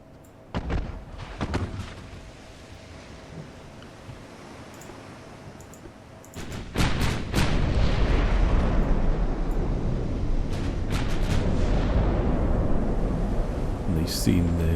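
Naval artillery from the USS Lexington in Ultimate Admiral: Dreadnoughts booms in heavy repeated salvos, a few sharp blasts early and then a dense, sustained roar of gunfire with loud impacts.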